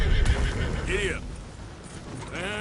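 A horse neighing twice, sharp whinnies over quick hoof clip-clops at a gallop, close by, with a voice mixed in.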